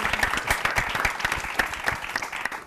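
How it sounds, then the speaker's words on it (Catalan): A studio audience gives a warm round of applause for a contestant on a Catalan word game show, with steady, moderately loud clapping that carries on evenly with no talk over it. "Un fort aplaudiment per la Denise."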